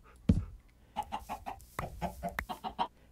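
Chickens cluck repeatedly in a Minecraft coop, a burst of about a dozen short, evenly paced game clucks heard up close with no talking.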